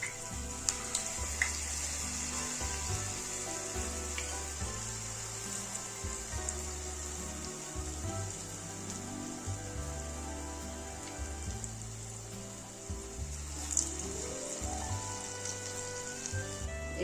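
Pumpkin fritters frying in hot white oil in a kadai, giving a continuous bright sizzle and crackle with occasional sharper pops, steady throughout over a quieter musical backing.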